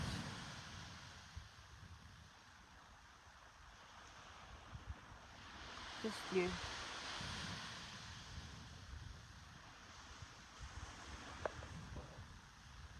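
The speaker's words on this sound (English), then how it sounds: "the sound of the waves crashing on the beach" Soft ocean surf washing onto a sandy beach, a steady low rush of waves with some wind, faint and continuous throughout, while a calm voice speaks briefly.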